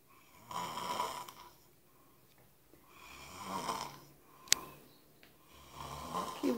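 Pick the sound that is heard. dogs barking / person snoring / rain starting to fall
person snoring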